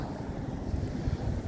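Wind buffets across a cold Reykjavik seaside with waves washing against the shore, a rough, gusty roar that stays close and steady and has no voices over it.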